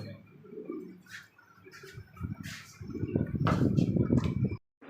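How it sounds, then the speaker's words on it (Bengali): Soft Lahori pigeon cooing, several low murmuring coos at close range from a pair with a chick, with some faint rustling and chirps over a quiet background. "এক জোড়া লাহোরি কবুতর একটা সিঙ্গেল বেবি দেখা যাচ্ছে"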